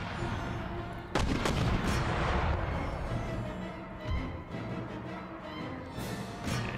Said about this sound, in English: Oh, see, the mortars are firing.